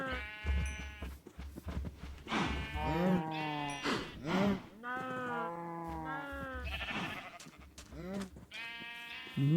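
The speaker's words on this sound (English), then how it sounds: "Noisy cows." Cows in the Minecraft video game let out a series of loud, drawn-out moos that overlap and repeat at close range over steady game background noise.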